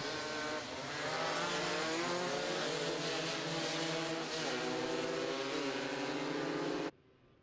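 Racing karts speed around the Shenington kart circuit during a national final, giving a continuous, loud, high engine whine as they pass close by. No voices are heard, and the sound cuts off abruptly at the end.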